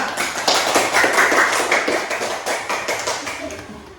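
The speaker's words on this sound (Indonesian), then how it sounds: "beri tepuk tangan untuk kelompok 2 anak-anak" A classroom of children clapping for group 2, a quick burst of many small hands that is loud at first and tapers off over a few seconds.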